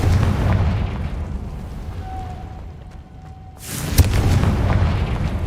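A Confringo explosive spell in Hogwarts Legacy, a heavy booming blast around the start and another sharp burst near four seconds, loud and close against a rumbling game backdrop, with no talk.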